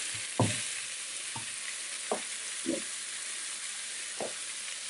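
Ingredients fry in a pan for a low-carb stuffed kohlrabi dish, a soft steady sizzle with a few sharp clacks of stirring scattered across the moment, close and without talk.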